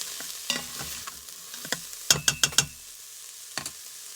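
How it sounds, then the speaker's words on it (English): Minced garlic stirred as it sizzles in an Instant Pot, with a soft background fry and several sharp scraping clinks of a utensil against the pot, including a quick burst of four strokes midway. "now I'm going to add minced garlic. Give that a little stir."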